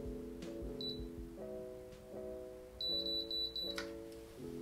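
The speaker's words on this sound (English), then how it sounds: "Slow beeps means it's working, it's going through the settings." High, thin electronic beeps from a VS Sassoon automatic hair curler sound a few times, spaced slowly, over a steady low hum and background tones.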